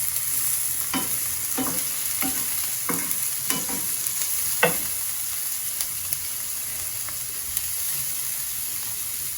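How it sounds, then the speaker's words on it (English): Vegetables with carrots sautéing in a pan over slightly lowered heat give a steady, close sizzle, punctuated by a series of light stirring scrapes in the first half. "I'm going to put the heat down just a little bit and just saute these."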